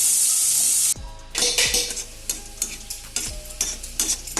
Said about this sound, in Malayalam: ഇതൊന്ന് വഴറ്റിയെടുക്കാം. നല്ല ബ്രൗൺ കളർ ആകുന്നത് വരെ വഴറ്റിക്കൊണ്ട് വെക്കണം.